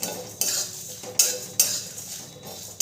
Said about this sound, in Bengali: মশলাটা অনবরত নেড়েই ভালো করে ভেজে নিতে হবে, নাহলে পুড়ে যাবে।